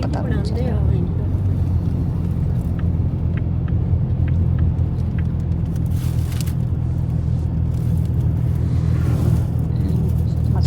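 Car interior while driving: a steady low engine and road rumble continues throughout at an even level, with a person talking over it.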